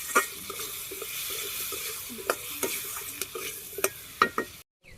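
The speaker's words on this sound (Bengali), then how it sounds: "এখন ভালোভাবে আমি কষিয়ে নিই" Turmeric, chili powder and salt fry in a pan over a clay stove with a dense, even sizzle, while frequent spatula scrapes and knocks ring out before the sound cuts off abruptly.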